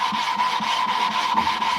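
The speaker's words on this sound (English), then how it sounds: "So now I'm going to jump over to my 1000 grit whetstone. I'm going to flatten it real fast." Rapid, rhythmic back-and-forth rubbing strokes on a 1000 grit whetstone during sharpening, roughly four gritty scrapes per second, close and steady with no talk.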